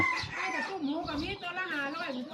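Chicken clucking close by in a rural Thai setting, a rapid run of pitched, warbling calls rising and falling over about two seconds, with a voice speaking alongside.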